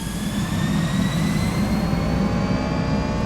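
Twin jet engines of a JARDesign A320 in X-Plane 11 spool up to full takeoff thrust at Vienna, a loud steady roar with rising whining tones and heavy low rumble, continuous and without talk.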